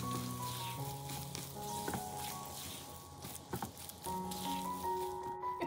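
Chopped cashews and pistachios are stirred in a hot pan, giving a steady sizzle with soft scraping and pattering as the mixture is turned.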